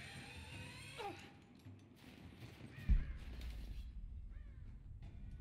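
A bird caws in the video game Rise of the Tomb Raider, a faint call amid quiet game ambience with mechanical creaks and a soft thud partway through.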